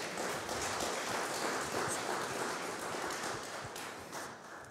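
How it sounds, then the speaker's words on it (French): An audience at a French panel event on pensions, training and health applauds with a steady, dense clapping that holds for several seconds before thinning out slightly toward the end. "Je crois qu'on peut applaudir Emmanuel et Sonia."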